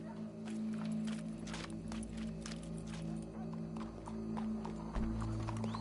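Horse hooves clip-clop with occasional snorts over a steady humming musical drone, moderately close, from a horse in the video game Red Dead Redemption 2.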